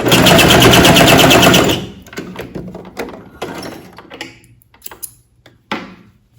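A home sewing machine backstitches at the end of a seam on a fabric belt strap, a loud dense run of rapid needle strokes for nearly two seconds, then softer scattered clicks and fabric handling.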